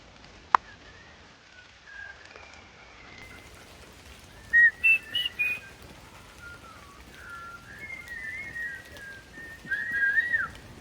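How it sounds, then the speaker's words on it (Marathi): A bird calls in the forest along a trail near Jivdhan fort, giving faint whistled chirps and short trills at intervals over a quiet, airy background. "तिथं कोणता तरी पक्षी ओरडतोय."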